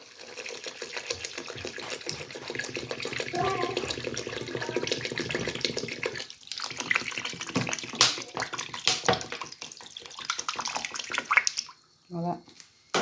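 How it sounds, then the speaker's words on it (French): Water is poured into a cooking pot of meatballs, a steady splashing wash with scattered clinks under a speaking voice, ending in a brief pause and final sounds. "je vais rajouter de l'eau"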